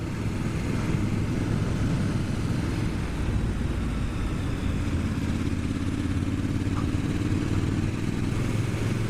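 A 2019 Triumph Scrambler motorcycle on the move, its engine a steady, close, continuous drone with road rumble underneath, holding even for the whole stretch with no talking.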